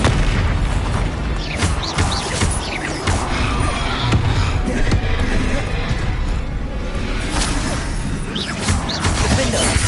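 Bombarda spell explosions boom repeatedly in the video game Hogwarts Legacy, dense, loud and continuous, layered with other crashes and pops, and voices are heard over the blasts.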